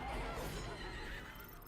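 A horse in the Stellar Blade video game gives a loud, continuous neigh and whinny over dense game noise, with faint hoof clip-clop underneath.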